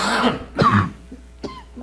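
Coughing and throat clearing at a village board meeting: a few rough, close bursts spaced about half a second apart, with no speech.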